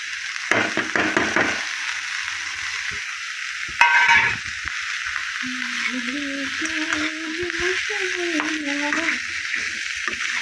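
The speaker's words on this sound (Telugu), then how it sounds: "కట్ చేసి పెట్టుకున్న బోడ కాకరకాయ ముక్కలు వేసేస్తున్నాను కళాయిలో" Cut spiny gourd pieces drop into a kadai of hot oil with fried onions and chillies, giving a loud sizzle and clatter before the frying settles into a steady hiss under a voice.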